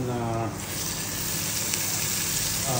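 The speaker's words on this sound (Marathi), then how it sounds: "आता मी प्रॉन्स टाकून घेतो आपले" Prawns frying in a hot pan for butter garlic prawns give a loud, continuous, close-up sizzle that barely changes, with a voice talking faintly at the start and end.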